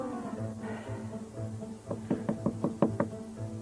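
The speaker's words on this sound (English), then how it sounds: "Knock on the door and ask them if the honey's ready." Knuckles knocking on a door, a quick series of five or six raps, close and fairly loud, after a stretch of quieter background sound.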